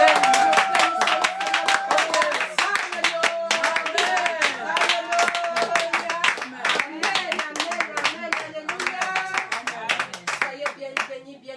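Church congregation clapping in rhythm to acclaim the Lord during a worship service, steady loud hand claps throughout over sung or spoken voices and music.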